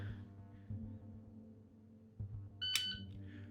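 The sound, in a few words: dryfire shot timer beep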